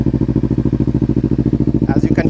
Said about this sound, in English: As you can hear, the exhaust is pretty loud.